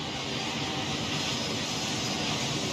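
Airliner taxiing at an airport in the management game Airport CEO, a steady, even jet engine whine and roar with constant loudness, no talk.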